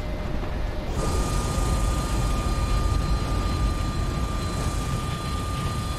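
A steady, loud airplane engine drone from the Enter the Matrix video game, with a constant hum that holds at an even level throughout and no speech over it.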